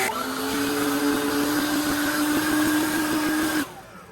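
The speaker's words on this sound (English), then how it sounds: "the first thing I do is blow the leaves away from the trees" A leaf blower clearing fallen leaves away from trees roars steadily at close range with a sustained whine, then cuts off abruptly near the end.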